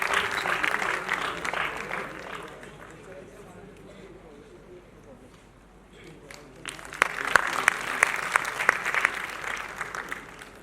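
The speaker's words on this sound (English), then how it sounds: "A huge round of applause once again for the Rustamji group." Audience applause at a college festival in India, clapping strong at first, easing through the middle, then swelling again with sharp claps toward the end.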